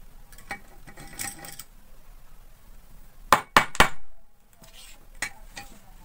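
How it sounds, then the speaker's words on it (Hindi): Nuts being removed from an air cooler, giving a few scattered metallic clinks and taps, with a quick burst of three sharp clanks in the middle, set against a quiet room. "दोस्तों इस तरह से मैं चार नट खोल दूंगा।"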